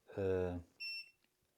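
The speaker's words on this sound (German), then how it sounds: "wird quittiert mit so einem kurzen Piepston" An EcoFlow Delta 2 portable power station gives a short, clear confirmation beep as an output is switched. A voice speaks just before it, then the single bright tone sounds alone near the device.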